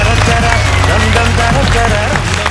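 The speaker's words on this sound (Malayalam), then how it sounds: "നല്ലൊരു കൈയടി" An audience at a Malayalam comedy show breaks into loud, dense applause after a skit, with sustained clapping and a voice talking over it.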